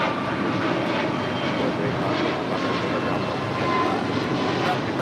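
An American Airlines jet passes at LAX, its engine roar a steady, broad rumble that holds loud and even throughout with no break.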